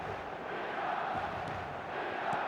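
A stadium crowd in eFootball keeps up a broad, steady roar with chanting voices blended together, distant and continuous throughout.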